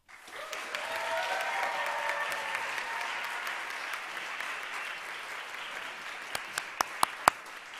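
A convocation audience at a school of music applauds a scholarship awardee, a broad steady wash of clapping from many hands throughout, fading slightly toward the end as a few louder individual claps stand out.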